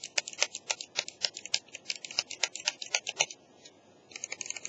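Crisp, rapid clicks from the buttons of an Aimon XB wireless mouse controller for Xbox 360, a close run of light plastic taps, briefly pausing before resuming.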